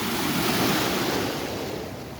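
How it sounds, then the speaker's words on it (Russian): Waves break and wash in a broad, surging roar that swells and then slowly fades, with wind rushing across the microphone and no voices. "Вот идет волна."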